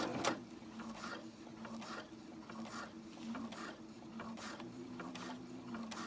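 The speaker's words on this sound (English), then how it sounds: "I will sew over the top of the edge here of what I've done" A sewing machine stitches over the edge of a pants hem, giving a steady mechanical whir with quick rhythmic clicking that runs unbroken and close, with no voices.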